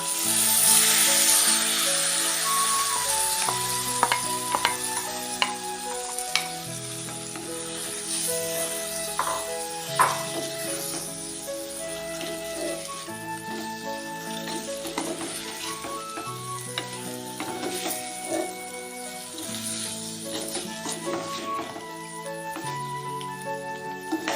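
Cut pieces of two medium-sized mangoes tipped into hot oil with chilli, sizzling steadily throughout with scraping stirring strokes and small crackles, music playing along underneath.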